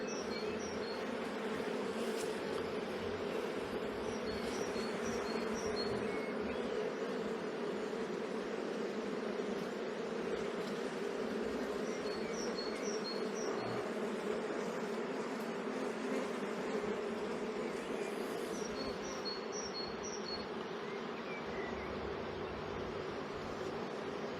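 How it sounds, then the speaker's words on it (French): Steady, dense buzzing of many honeybees around an open hive fills the air continuously, a soft close hum with no voices. "laisser le temps aux abeilles de re-rentrer dans la ruche"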